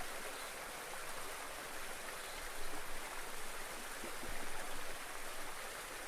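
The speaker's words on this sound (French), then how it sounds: "Juste le son de l'eau." A river stream flows continuously in a steady, even rush of water with small ripples and splashes, moderately loud and close, with no voices.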